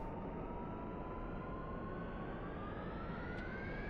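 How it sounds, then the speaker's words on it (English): The jet engine of an AJS37 Viggen spins up during a startup sequence in the flight simulator DCS, a steady turbine roar with a thin whine slowly climbing in pitch, fairly quiet and constant. "the gas turbine starter will actually spin the engine. It's spinning the engine now."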